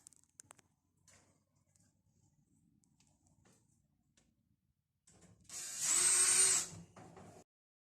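A screw is driven into the front corner of a clothes dryer panel. After faint handling clicks, a short, loud powered whir lasts about two seconds, then stops.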